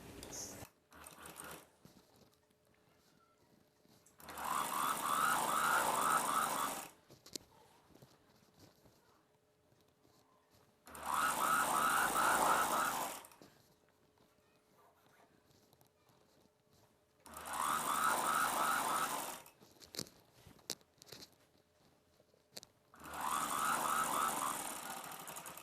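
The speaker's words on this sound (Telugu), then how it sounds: "అంటే మొత్తం ఇలా డబుల్ ఫోల్డ్ వచ్చేలా ఫోల్డ్ చేసుకొని కుట్టు వేయడం స్టార్ట్ చేసుకోవాలి" Sewing machine stitching a double-folded hem on a boat-neck Punjabi dress, running in four separate bursts of a few seconds each with quiet pauses between them, close and fairly loud.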